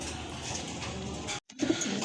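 Pigeons coo softly in a loft full of birds kept for sale, low throaty calls over a background hum, with a brief dropout partway through.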